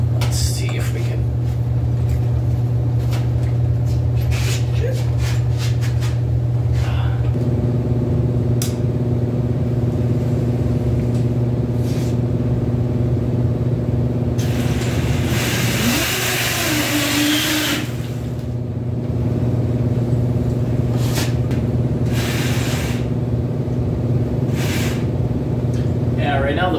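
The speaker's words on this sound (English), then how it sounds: "Right now the wheels are just spinning on the rear drive rollers" A custom electric bike built from an old Schwinn has its rear wheel spinning on drive rollers, giving a loud, steady motorized hum and whine that runs throughout and shifts to a higher tone partway through.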